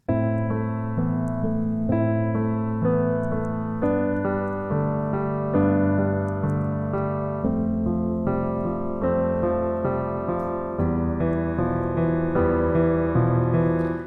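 Piano chords played in a steady bouncing rhythm, each chord struck twice before moving to the next, sustained and clear with no talking.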